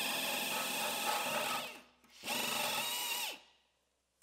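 Power tool scuffing the metal of a 2015 GMC Terrain Denali body during frame rail and apron replacement, two close, steady whirring bursts that spin down between them.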